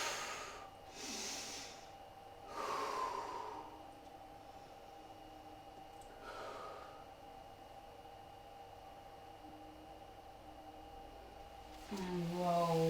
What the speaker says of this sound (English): Big deep breaths in here.